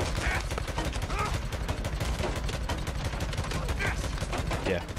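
Rapid, sustained light machine gun fire in Days Gone, with dense rhythmic bursts running the whole time over a steady, loud background of action.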